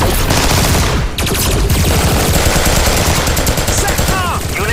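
Dense, loud gunfire from an action-movie battle scene: rapid machine-gun bursts and overlapping shots hammering continuously, with shouted voices mixed into the chaos.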